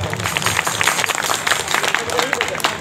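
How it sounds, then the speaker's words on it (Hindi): Audience in a hall clapping at a talk by a former soldier, a scattered, moderately loud round of claps with voices talking underneath. "बजा दो तो ताली बजा दीजिए सर।"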